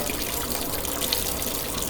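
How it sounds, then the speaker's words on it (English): A kitchen sink fills from the tap before chicken wings are washed in it, a steady, soft, even rush of running water with no voices. "fill the sink up with some water."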